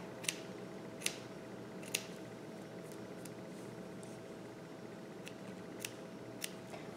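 Sharp scissors snipping the hair of a layered wig, giving a handful of crisp, evenly spaced cuts over a faint steady hiss, close up and without talk.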